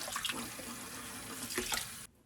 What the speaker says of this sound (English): Rinse the ribs again.